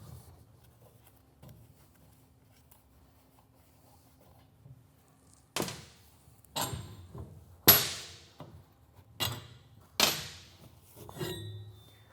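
Metal bolts being removed from a welder wire spool, heard as a series of about six sharp clanks and clinks spaced roughly a second apart, close and moderately loud after several quiet seconds.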